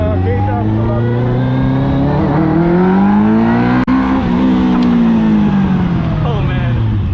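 A Westfield Seven sports car with a motorcycle engine pulls hard through the gears from inside the cockpit. The loud, high-revving engine climbs steadily in pitch, eases off briefly, then winds up again, with passengers' voices mixed under the roar.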